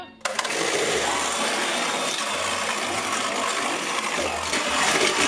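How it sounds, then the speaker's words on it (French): An electric mixer whirs steadily and loudly, beating egg yolks with sugar for tiramisu, a continuous motorized buzz that starts abruptly and runs throughout. "Et maintenant, au mixeur."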